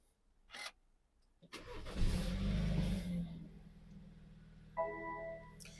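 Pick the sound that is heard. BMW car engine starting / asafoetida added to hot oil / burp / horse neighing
BMW car engine starting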